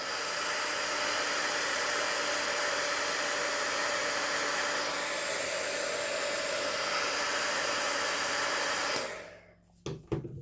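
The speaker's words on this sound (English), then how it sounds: "I'm just going to take the heat gun and zap the ends" A heat gun blows a steady, loud hiss as it melts the cut ends of gift-box ribbon, running continuously for about nine seconds before cutting off into a few faint clicks and handling sounds.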